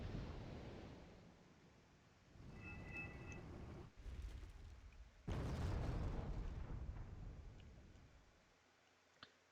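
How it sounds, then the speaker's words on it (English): A bomber's bomb strikes a Challenger 1 tank in Wargame Red Dragon, a loud explosion that bursts in the middle and rumbles away, after a lower battlefield rumble. "The bomb is coming in, taking out a Challenger 1."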